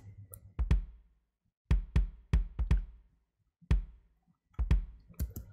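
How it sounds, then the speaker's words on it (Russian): A soloed kick drum from the Addictive Drums 2 software plays alone in short bursts: sharp, punchy thumps in quick pairs and triplets, separated by brief silences, close and dry. "Засолируем бочку."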